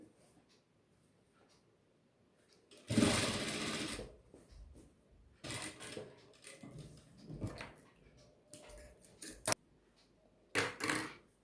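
Domestic sewing machine stitching around the elastic waistband of a boxer brief, heard in several short loud bursts of whirring stitching separated by quiet pauses and faint handling sounds.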